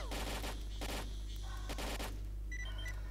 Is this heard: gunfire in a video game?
yes